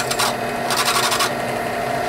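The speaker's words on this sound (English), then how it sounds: "I'm trying to hold it to keep it from spinning, to let the drill bit dig in a little bit longer" Drill bit boring belt loop holes in a Kydex holster, loud buzzing bursts of cutting that rise and stop in short runs against a steady motor whine.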